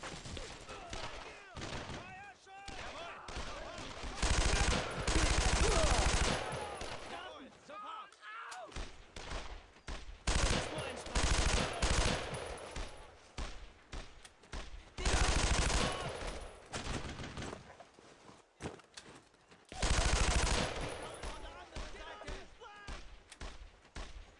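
Loud, rapid machine gun bursts rattle in the World War II video game Brothers in Arms: Road to Hill 30, coming in repeated waves with thuds and shouted voices between them.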